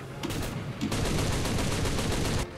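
A 7.7 mm machine gun fires in War Thunder tank combat as one loud, rapid, unbroken burst of shots lasting a couple of seconds, with a brief break near the start.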